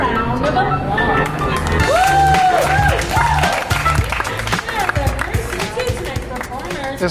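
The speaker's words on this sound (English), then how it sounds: "Give yourself a round of applause." Audience applause and cheering from a crowd at an outdoor New York City sidewalk standup comedy show, a dense wash of clapping with babble, loud and sustained for several seconds before thinning out.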